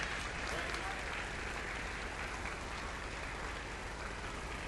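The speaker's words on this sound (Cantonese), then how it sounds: "好，我哋再一次掌聲，" Audience applause at a primary school graduation and prize-giving ceremony, honouring award-winning students; a steady, dense wash of clapping across a hall that holds evenly throughout without any voices.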